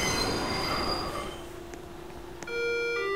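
A Roblox train pulls into a station with steady high-pitched wheel squeal, a sustained screeching whine that shifts pitch as the cars slow, loud and close with no talking.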